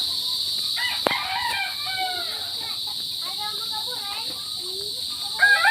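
A chicken crows and clucks nearby with a steady high hiss behind it, and a person speaks now and then.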